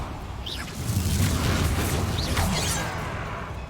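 Bombarda spell explosion in Hogwarts Legacy, a deep booming blast with rumbling low end swelling in the middle of the clip, accompanied by brief whooshing spell effects.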